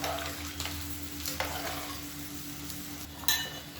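Dal being stirred into radish sambar simmering in a pot, with soft scraping stirs and a gentle bubbling sizzle, one sharper clink near the end, no voices.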